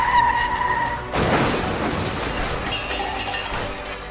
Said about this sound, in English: Chain reaction of one person not paying attention and braking way too late.